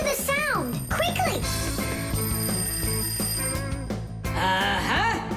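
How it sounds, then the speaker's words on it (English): A cartoon alarm clock rings in bright, bell-like trills over playful music, loud and close, with bursts of animated voices around it. "Simka, I think I can hear my alarm ringing."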